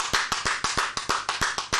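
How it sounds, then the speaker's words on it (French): Enthusiastic applause from an audience greeting a Congolese singer at a concert in Goma, eastern Congo, with sharp rhythmic claps pulsing in steady bursts about every quarter second, loud and close with no voices. "les applaudissements nourris"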